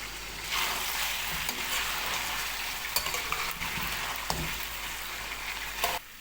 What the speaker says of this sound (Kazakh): Қатты отта жақсылап қызартып қуырып аламыз.